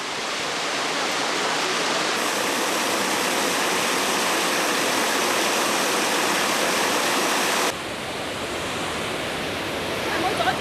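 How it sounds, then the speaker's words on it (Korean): Huangguoshu waterfall in China gives off a loud, steady, wall-like roar of falling water that fills the scene without a break and eases slightly near the end. "우기인 7, 8월에는 물 떨어지는 소리가 석두채 마을에서도 들린다고 하니"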